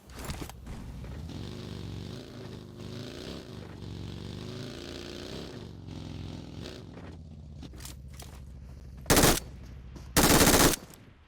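Gunfire in PUBG Mobile: rapid automatic bursts rattle for several seconds, followed by scattered single shots and two loud, sharp blasts near the end, close and dominant.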